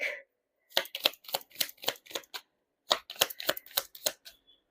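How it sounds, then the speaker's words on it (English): A tarot card deck is riffled and shuffled in two quick bursts of crisp, rapid flutters and snaps, close and clear with a short pause between them and no talking. "You saw me shuffle."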